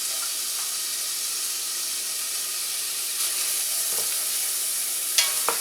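Finely chopped sweet onion sizzles steadily in a hot pan, a soft continuous hiss with a few brief clinks and scrapes near the end.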